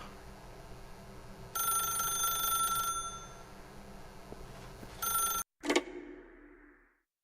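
An old-style telephone bell rings in The Stanley Parable, a steady electronic trill lasting a few seconds, stopping, briefly resuming, then cut off by a click and a short fading tone.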